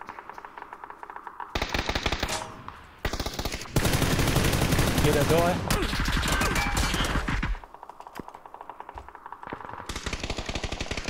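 Automatic weapon fire in a multiplayer shooter game comes in several rapid bursts separated by quieter gaps and single shots, fairly close and loud, with a player briefly speaking between volleys.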